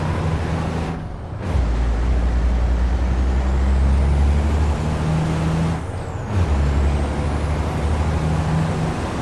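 Air brakes on a racing truck in the FIA European Truck Racing video game give two loud hissing bursts over a steady, heavy engine drone.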